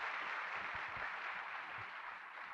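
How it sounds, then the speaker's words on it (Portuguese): At the launch of a new Afip brand, an audience gives steady, fairly faint applause for Maria Gerbasi, an even wash of clapping with no talk over it. "Aplausos para Maria Gerbasi."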